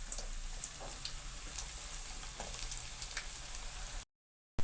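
Cabbage pieces deep-fry in hot oil for cabbage manchurian, giving a soft, steady sizzle with scattered crackles and pops, close and quiet, before breaking off into brief silence near the end.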